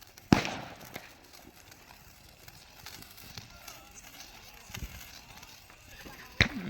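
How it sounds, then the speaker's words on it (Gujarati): Diwali firecrackers burst with sharp, loud bangs, one early and one near the end, a few fainter pops between, over quiet background chatter. "ફટાકડા ત્યાં કરે ફટાકડા ફૂટી રહ્યા બધા"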